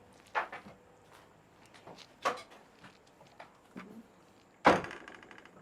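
An abandoned nun's hut produces scattered faint wooden knocks and thuds, ending in one sharper bang of a door near the end, with no one talking.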